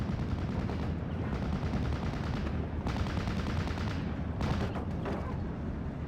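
Rapid rifle fire from M1 Garands in the Steel Division wartime strategy game, a dense, continuous rattle of shots with heavier booms mixed in, loud and steady throughout with no one speaking.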